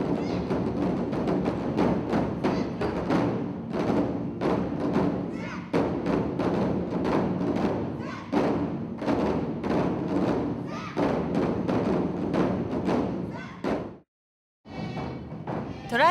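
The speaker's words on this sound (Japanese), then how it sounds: "大太鼓ならではの大きい音、深い響き" A team plays the odaiko, a big taiko drum, in a continuous stream of heavy, booming strikes with deep resonance, loud and sustained, under a speaking voice, before a brief silence and a final burst.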